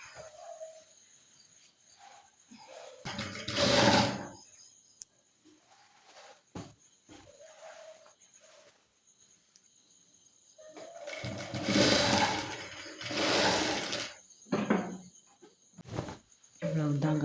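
A sewing machine stitching a ten-year-old's school uniform pants, two rapid whirring bursts of stitching with quiet handling and faint background chirps between them.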